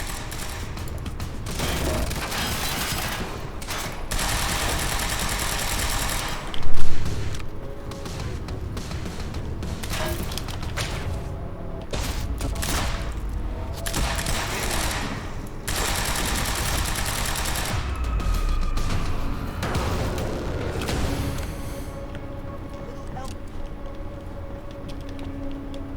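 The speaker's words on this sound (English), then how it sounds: "Why are they still shooting?" Gunfire in the video game Quantum Break, sustained bursts of shooting running through the whole stretch with one sharper loud blast early on, fairly dense and close, with no talk over it.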